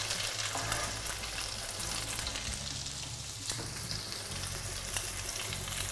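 A fish fillet sautés presentation side down in a hot pan, giving a continuous, even sizzle with a low hum beneath, close and steady for several seconds with no voices.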